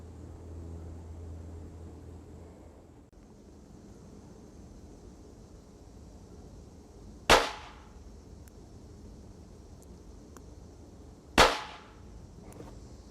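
An XYTHOS automatic pinfire revolver fired into 10% ballistic gelatin, two sharp loud shots several seconds apart, each with a short ringing decay, over quiet background hum.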